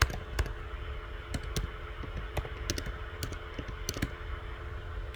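Rapid close clicking of keys on a computer keyboard, irregular bursts of typing over a quiet room hum with no talk.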